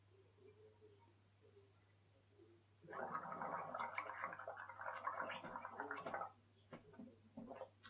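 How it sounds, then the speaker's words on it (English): Someone gargles water, a bubbling, throaty rattle lasting a few seconds, followed by a few brief wet mouth sounds. "Now we're going to gargle some water."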